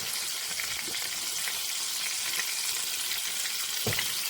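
Butter and a little olive oil sizzle steadily in a pot, a loud, even frying hiss with a few soft clinks near the end.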